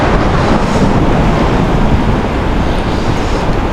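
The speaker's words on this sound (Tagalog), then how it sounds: "Napakalakas ang hangin." Strong wind at sea roars steadily into the microphone, a loud continuous rush with a hint of surf beneath.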